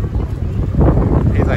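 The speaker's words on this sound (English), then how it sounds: "Bit of wind." Wind buffeting the microphone while riding a Santander Cycles hire bike in London, a continuous low rumbling gust that stays loud and close throughout the short moment.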